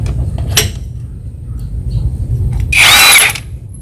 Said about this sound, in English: If you're trying to do this with a regular wrench, I would recommend you get a some kind of a driver like this.